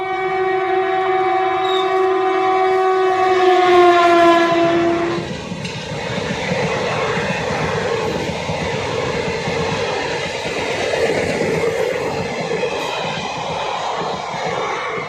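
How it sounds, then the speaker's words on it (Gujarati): A train sounds its long, loud horn while approaching a railway level crossing, then rumbles past close by with steady clattering wheels for the rest of the time. "ટ્રેન છે, હવે ફાટક ખુલશે."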